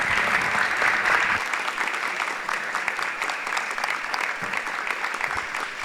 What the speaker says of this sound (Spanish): pido a todos un aplauso para Nicolás.